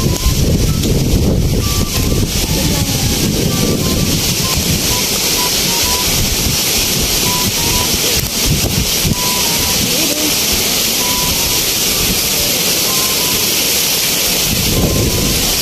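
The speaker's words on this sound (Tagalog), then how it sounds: "Oh, napakalakas po ng hangin." Strong wind buffets the microphone at a seashore while waves wash in steadily, a loud continuous roar with voices talking intermittently over it.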